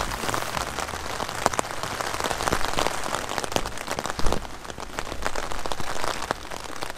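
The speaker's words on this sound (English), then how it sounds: "with this rain, it's not much fun." Rain falling steadily near a 1987 Larson vintage boat with an Evinrude 150HP outboard, a dense patter of drops with sharper individual hits scattered throughout, loud and close with no talk.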